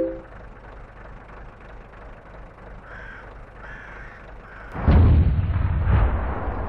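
A tank cannon shot in the World of Tanks video game, fired by an AMX artillery piece, hits as a loud, heavy boom with a rumbling tail, following quieter ambient game noise and a crow-like caw.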